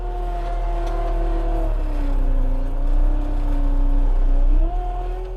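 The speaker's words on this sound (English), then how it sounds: "I can push one set of wheels front and one set of wheels back, and spin the machine around on its own footprint." A New Holland skid steer loader spins in place on its own footprint, its engine holding a loud, steady drone with pitch dipping and rising as the wheels drive in opposite directions, up close and continuous.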